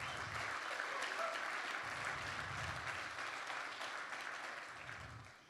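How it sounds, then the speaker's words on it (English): Audience applause for nonprofit leaders and their business coaches at an evening session, a steady, fairly distant wash of clapping that fades slightly at the end. "So a round of applause for these fabulous individuals."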